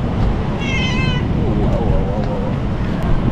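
A hungry cat on a street in BGC, Philippines, gives one clear, close meow, with a fainter second cry after it over constant city background noise.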